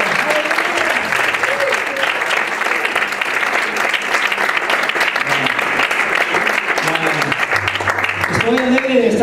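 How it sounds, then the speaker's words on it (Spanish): Sustained applause from a church congregation fills the room, dense and steady throughout, with a voice speaking over the clapping. "Un aplauso al Señor."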